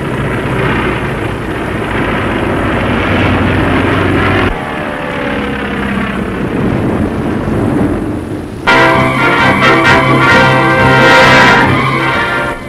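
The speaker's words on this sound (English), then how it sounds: "Art Davis, Roger Don Rae, and Bob Odell salute the 1935 National Air Races in smoke." Propeller aircraft from the 1935 National Air Races flying a smoke-writing finale, with a steady, loud engine drone that shifts in character partway through and keeps a constant roar.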